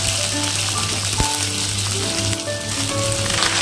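Green beans dropped into hot oil tempered with dried chilli, black cumin, five-spice and green chilli give a loud, steady, dense sizzle throughout, close up, with a faint clink partway through.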